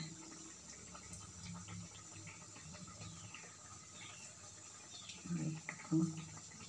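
Soaked ripe tamarind water poured over a chickpea tikki chaat gives a faint, soft liquid trickle at low volume, a little louder near the end.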